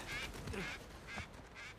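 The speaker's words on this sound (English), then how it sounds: "Sorry, bird, I disrupted you." A bird calls in the video game Uncharted 4, a quiet series of four or five nasal quacking honks spaced unevenly, fairly faint against a soft background.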